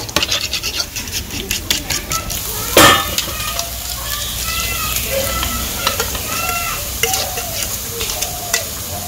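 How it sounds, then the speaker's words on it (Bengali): Beaten egg, salted, frying in a pan on a village cooking fire, crackling sizzle under repeated scraping stirs with a sharp clatter early on, close and continuous. "ডিম তো দিয়ে দিছি, এখন একটু ভালো করে আর একটু ভাজবো"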